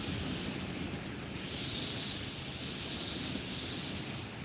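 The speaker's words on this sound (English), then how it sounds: "even though it's windy and rainy, it actually feels good here on my covered porch" Steady night rain and gusting wind in Georgia, heard from a covered porch, fill the air in a continuous broadband wash, with a few louder swells of rushing wind; no voices.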